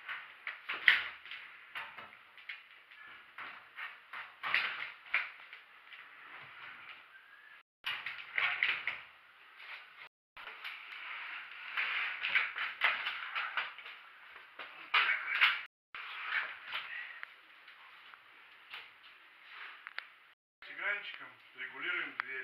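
A sliding wardrobe door is worked onto its top rail, with repeated scraping, knocking and sliding contacts spread across the clip. There are a few short gaps, and a voice speaks near the end.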